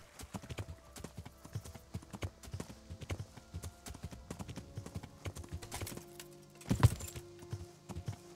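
Horse hooves clip-clop at a steady walking rhythm in the video game Kingdom Come: Deliverance, clear and close with a louder thump near the end.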